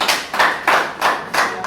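Church congregation applauding at an Anglican gathering, several bursts of hand clapping rising and falling in rough waves, close and fairly loud with no talk.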